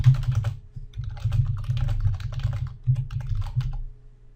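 Steady typing on a computer keyboard while entering a comment in Excel 2013, with rapid close key clicks and a few heavier thumps, continuous with no talk.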